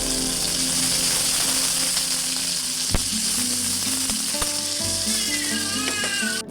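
Onions and chillies sizzle steadily in hot oil in a kadai, a loud continuous frying hiss with a few sharp pops, heard under background music with no talking.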